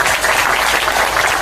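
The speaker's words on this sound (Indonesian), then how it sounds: "Tepuk tangan." An audience claps together in a dense, steady burst of applause that fills the space, loud and continuous throughout.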